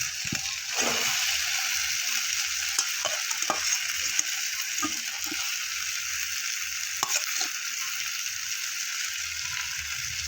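Fried potatoes stirred into sautéed, cooked-down spices for a broccoli dish sizzle steadily, with scattered scrapes and clicks of the stirring utensil against the pan. No one speaks.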